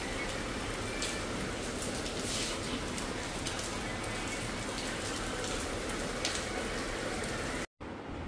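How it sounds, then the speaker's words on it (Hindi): Heavy rain pours down in a dense, unbroken roar with spattering drops, loud and constant until a sudden brief cut near the end. "ये भी कितनी तेज बारिश हो रही है"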